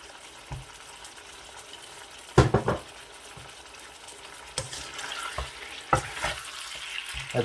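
Balochi biryani ingredients with a tablespoon of salt being stirred and mixed in a pan over the heat, a scraping utensil clattering in scattered strokes over a low sizzle, with a sharper cluster of knocks midway.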